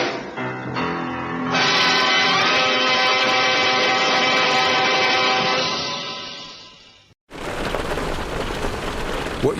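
Hail pelts fiber cement siding in a dense, loud, continuous rattle of impacts, cutting off sharply before a rougher burst of hits resumes.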